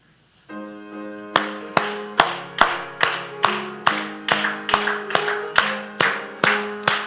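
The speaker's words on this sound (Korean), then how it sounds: "우리 박수치며 찬양하시겠습니다" A church congregation claps in steady rhythm along with a hymn at an early-morning service, about fourteen sharp, loud, evenly spaced claps over a sustained organ or keyboard chord, with no talking.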